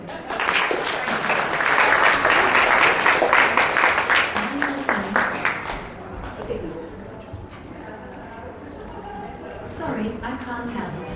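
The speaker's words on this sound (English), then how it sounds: "So round of applause, everybody." Audience applause at a live tech showcase event, a dense wash of clapping that swells for several seconds, then thins out as a voice begins speaking over the last scattered claps.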